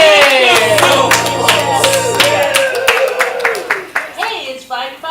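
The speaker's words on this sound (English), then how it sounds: "Everyone else can cheer, applaud, point, and try to gesture" An audience at a ComedySportz improv comedy show claps in a dense, rapid burst of applause with cheering and shouts. A low hum runs under the first half, and the clapping thins into scattered claps and voices toward the end.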